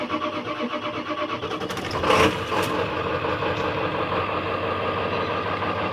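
A diesel car engine cranks and catches around two seconds in with a brief louder burst, then settles into a steady, rattling idle that runs close by and alone to the end.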